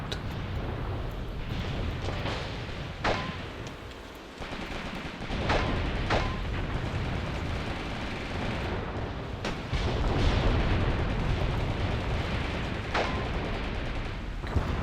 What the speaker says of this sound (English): they're lobbing grenades at it.